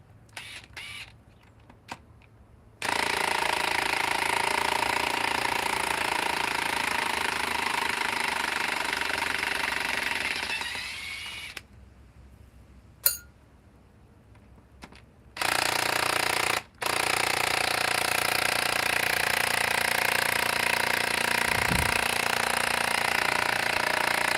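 A DeWalt hydraulic tool runs at its lowest speed setting in steady, fairly loud stretches, broken by short pauses and a sharp click, with no talking.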